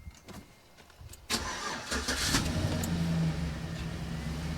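A 2009 Chevrolet Silverado pickup with newly installed rear disc brakes cranks briefly and fires up, then settles into a steady, close idle hum after a few faint clicks.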